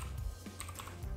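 Typing on a computer keyboard while entering a search into an effects panel, a short run of quick, close key clicks with an even rhythm and no voices.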